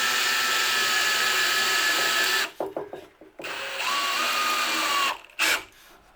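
A power drill drives a screw into a wooden dowel with a loud, steady whir that stops, restarts in short bursts and ends with a final brief spin.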